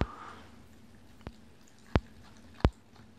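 A Shiba Inu crunches on a treat up close, with three or four sharp, separate bites spaced about a second apart over a quiet, wet background; no talking.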